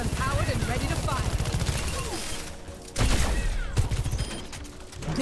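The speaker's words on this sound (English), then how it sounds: "Railgun powered and ready to fire." Sci-fi railgun blasts fire in an arena-style video game, a sharp burst near three seconds followed by a metallic, ratcheting echo, mixed with busy game effects and music and a synthetic announcer voice talking throughout.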